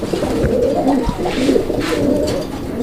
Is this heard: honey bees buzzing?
no